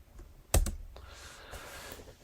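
Typing on a computer keyboard while entering a value in circuit simulation software: a sharp keystroke followed by a few soft clicks, close and quiet, with faint room noise.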